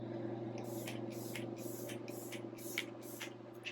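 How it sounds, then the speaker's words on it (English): Faint, quick hisses of an aerosol spray repeat about seven times in a steady rhythm over a low background hum. "Put some spray on."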